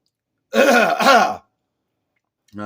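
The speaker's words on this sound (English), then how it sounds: "Sorry for all this clearing my throat." A single harsh throat clearing in two quick rasping bursts, close by, followed by silence and the start of a voice.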